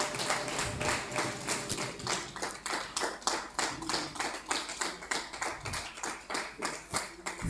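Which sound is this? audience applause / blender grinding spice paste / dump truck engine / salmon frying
audience applause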